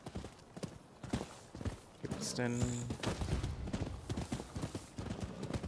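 Horse hooves clip-clopping at a steady gallop in the video game Rise of the Ronin, a rhythmic thudding beneath someone talking, with a brief whinny partway through.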